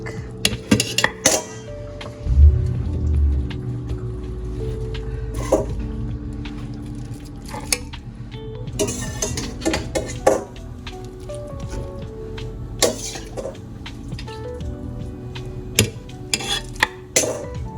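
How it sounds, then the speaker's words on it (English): Heavy beef shanks going back into a freshly washed pot for Filipino bulalo soup, giving close, irregular clunks, squishy thuds and metallic clinks of pot and utensils spread across the stretch, with no talking. "Now it's clean. We can put all our shanks back."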